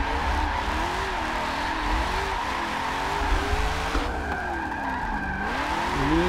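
Race car tires squealing and skidding in a sim racing video game driven with a Logitech G920 wheel, long wavering screeches over a steady engine roar, continuous and loud without talk.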